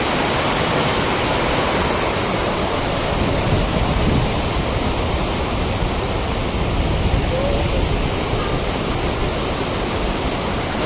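Ripple Waterfalls in Munnar, carrying a moderate flow, roars steadily as a dense, continuous rush of falling water close by, with no break across the whole stretch.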